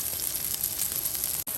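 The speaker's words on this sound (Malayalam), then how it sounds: "ചെറുതായിട്ട് വാട്ടിയെടുക്കാൻ വേണ്ടി പാനിട്ട് കുറച്ച് ഒലിവ് ഓയിൽ ഒഴിച്ച് ഇവിടെ സാധനം റെഡിയായിക്കൊണ്ടിരിക്കുന്നു" Broccoli and mushrooms fry in a pan with olive oil in a constant, close crackling sizzle. The sound cuts out in a brief dropout near the end, then returns.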